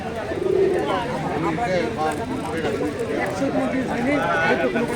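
Pigeons, including Giribaz birds, cooing amid a busy outdoor pigeon market at Keshar Hat in Rajshahi, with constant overlapping chatter of buyers and sellers over the birds.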